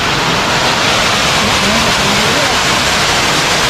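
Rushing water feeding a small village turbine in a Tajik mountain village, a loud, continuous broadband roar like a close stream or chute, with no breaks or voices.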